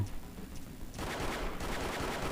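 Bursts of rapid gunfire from a HeyHa Royale battle royale game, a sustained loud volley starting partway through and continuing to the end, with a quieter stretch at the start.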